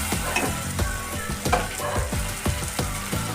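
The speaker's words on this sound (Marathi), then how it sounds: "चांगलं हे एकत्र मिक्स करून घ्यायचं आणि दोन मिनटं व्यवस्थित फ्राय करून घ्यायचं" Sambar masala sizzling as it is fried and stirred in a pan, a steady close crackle with repeated scraping strokes of a spoon setting an uneven rhythm throughout.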